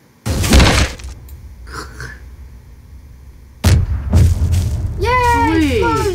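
A car blowing up in Garry's Mod, two heavy booming blasts with rumbling decay, the second followed by scattered crackle, mixed with excited voices and a squealing whistle-like tone near the end.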